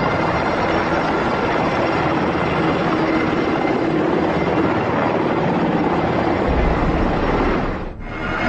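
A military helicopter flies overhead over a Houston neighborhood, its rotor wash a continuous loud, dense roar that holds steady and dips briefly near the end, with no voices.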